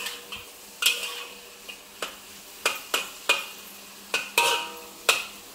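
Tomato and brinjal being stir-fried in a pan, with a sizzling background broken by about a dozen sharp spatula knocks and scrapes at an uneven rhythm, close by and without speech.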